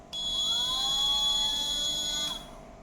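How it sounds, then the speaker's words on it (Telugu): A small buzzer in a school science project circuit on energy transformation sounds one steady, shrill electronic tone for about two seconds, loud and close, then cuts off abruptly. "ఫస్ట్ మనకి లైట్ ఇంకా బజర్ చెక్ చేద్దాం"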